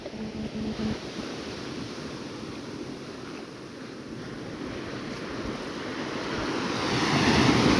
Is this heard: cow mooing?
no